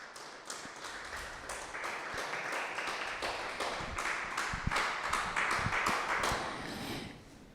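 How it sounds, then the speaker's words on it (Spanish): A church congregation claps in praise to the Lord: scattered hand claps that thicken into a sustained round of applause at a moderate distance, tapering off near the end. "Un aplauso al Señor."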